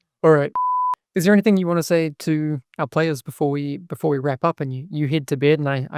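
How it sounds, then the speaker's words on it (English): A single short electronic alarm beep sounds as one steady tone, then someone speaks at length. "That's the alarm. I have to turn it off."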